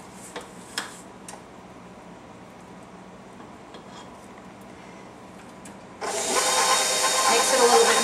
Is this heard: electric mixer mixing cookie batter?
yes